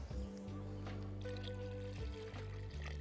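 Water is poured into a simmering tomato-sauce dish for Bulgarian village manzha, a brief close trickle over a steady tonal background hum.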